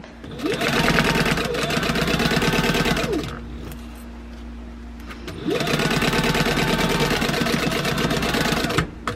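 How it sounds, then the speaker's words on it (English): A sewing machine stitching fabric at a 3-stitch length with back stitching, running in two loud close bursts of rapid whirring with a quieter pause between, and a voice talking faintly underneath. "I have got a 3-stitch length, and I'm going to back stitch when I start and when I stop."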